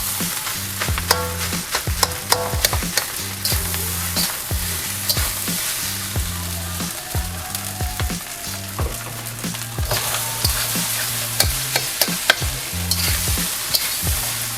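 Bagoong fried rice with crumbled fried egg stir-fried in a pan: a loud, steady sizzle with repeated sharp scrapes and clacks of a utensil against the pan, alone with no talk.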